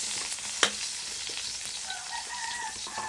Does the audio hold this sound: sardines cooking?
yes